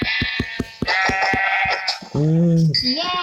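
Sheep in a video game bleat repeatedly, several close, loud, wavering calls in quick succession with short pulses between them, alongside a voice.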